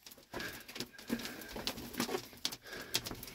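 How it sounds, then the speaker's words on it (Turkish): Pigeons coo at their coop as they are released, soft, repeated throaty coos close by with light rustling and scuffling between them. "Şimdi kuşları tekrardan salacağım."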